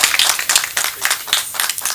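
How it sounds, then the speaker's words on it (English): A small crowd claps at a chimpanzee census launch event just after an official signing. The clapping is close, uneven and moderately loud, and it continues throughout. "A round of applause, ladies and gentlemen."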